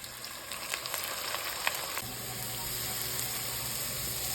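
Leeks and the white parts of green onions fry in a wok for Kung Pao chicken, giving a steady, close sizzle. Quick tossing scrapes come first, then the frying settles into a constant hiss.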